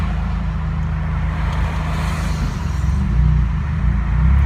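A straight-piped 2015 Subaru WRX exhaust rumbles steadily and loud in the low end, its drone swelling slightly toward the end, with no talk over it.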